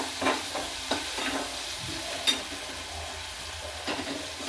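Green chilli pieces sautéing in hot oil, a steady close sizzle with a few spoon scrapes and stirring knocks over it.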